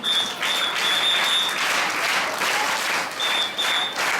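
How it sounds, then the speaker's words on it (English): Loud, continuous applause from a school audience welcoming the high school principal at a Children's Day event, dense clapping sustained for about four seconds with a faint tonal whine in the background. "Please welcome him with your clap"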